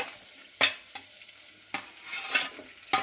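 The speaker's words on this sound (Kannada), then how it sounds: "ಇವು ಮೂರನ್ನ ಹಾಕ್ಕೊಂಡು ನೀಟಾಗಿ ಮಿಕ್ಸ್ ಮಾಡ್ಕೊಳ್ಳೋಣ." Spatula stirring beans, carrots and potatoes in a pan, sharp scrapes and taps at irregular intervals over a faint background sizzle, close and clear with no talk.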